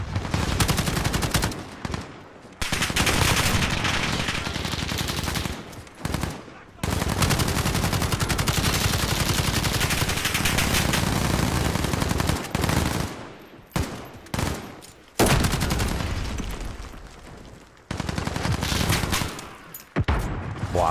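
Sustained bursts of rapid automatic gunfire from a weapon in a first-person shooter game, loud and dense, broken by short pauses between volleys.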